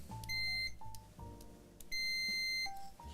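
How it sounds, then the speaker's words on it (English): Repeated electronic beeps in short bursts, steady pure tones switching on and off, fairly close and clear with no talking. "Here we go, it beeps."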